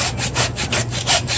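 A hand saw cuts through the central bone of a meat carcass during butchering. Steady back-and-forth rasping strokes repeat about every fifth of a second, close and loud, with no voices over them.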